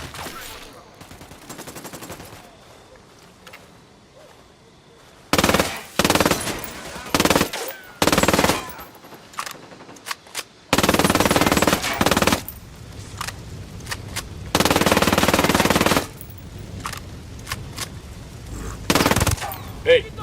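Gunfire in Ghost Recon: Wildlands, bursts of automatic machine-gun fire in loud separate volleys with short gaps between, and quieter background sound in between the bursts.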